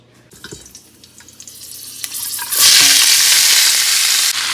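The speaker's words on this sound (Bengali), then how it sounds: "আলু আর স্কোয়াশটা একসঙ্গে ভাজা করে নেব" Potatoes with squash layered on top begin frying in a pan, starting with a few quiet handling clicks and then swelling into a loud, steady hiss of sizzling oil that holds to the end.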